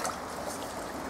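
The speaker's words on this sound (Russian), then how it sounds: "Я еще не видел такого, чтобы вода бурлила" Water bubbling up from under the ground at a lake, a short, steady gurgling wash heard close and alone.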